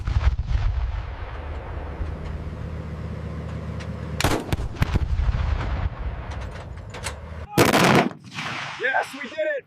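Schwerer Gustav railway cannon firing in a video game: a low droning rumble is broken by a sharp, booming blast near the middle, then a second, louder extended roar of detonation followed by fading reverberating debris and echoes.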